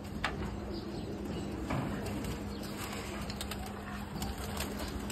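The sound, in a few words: pigeons cooing in a loft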